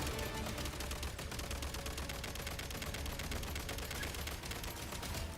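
Dense, continuous rapid gunfire in the video game Genshin Impact, a loud steady fusillade of rhythmic shots filling the whole stretch with no pauses.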